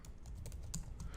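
Computer keyboard keys tapping in a quick, uneven run of close clicks while Selenium automation code is typed, with no talking.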